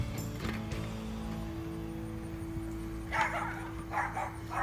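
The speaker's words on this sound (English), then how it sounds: "here's Buddy the brew dog, chasing off one of those mean birds" A dog outdoors during home beer brewing barks to chase birds away, giving several close, yappy barks near the end over a steady background hum.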